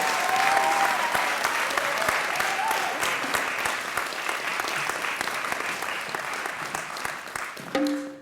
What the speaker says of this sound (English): Give her some of that thunderous applause.